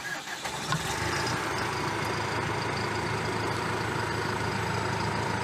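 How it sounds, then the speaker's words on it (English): A tractor engine cranks and catches, then settles into a steady, loud mid-pitched idle that runs on without a break. "So I will start the tractor."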